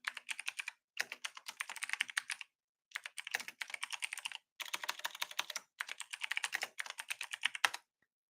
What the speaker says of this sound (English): I'm just going to type this out again as a victory lap.